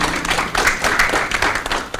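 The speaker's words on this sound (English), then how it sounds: "let's give them a round of applause" An audience at a legal debate applauds, dense overlapping hand claps filling the room for a couple of seconds.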